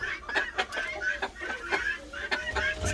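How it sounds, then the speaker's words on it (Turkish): Forest chickens cluck in a run of short, repeated calls at fairly close range, with overlapping bursts spread evenly and no talking. "Evet orman tavukları artık bir hamle yapmaları lazım."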